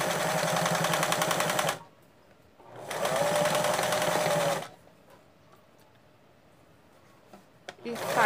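A sewing machine stitches a children's rug in two quick runs of rapid whirring, each under two seconds, separated by quiet pauses, with a soft clatter at the end.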